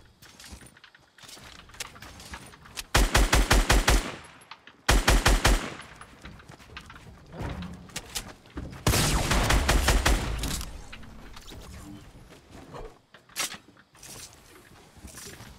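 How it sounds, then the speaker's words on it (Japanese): Warning shots ring out in the Fortnite video game as loud rapid bursts of automatic gunfire, two sharp volleys followed by a longer spray, with scattered quieter game sounds in between and no talking. "ちょっと威嚇射撃だけしとこう。"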